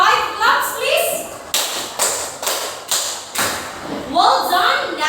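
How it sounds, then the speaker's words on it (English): A classroom of students gives five rhythmic claps, each a sharp, crowded burst spaced about a second apart, with voices speaking before and after. "Give them 5 claps, please."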